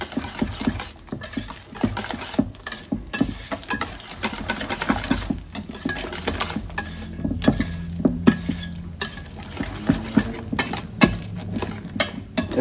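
A spoon stirs homemade tartar sauce in a bowl, with steady close scraping and clinking against the sides, busy and continuous throughout with no voices.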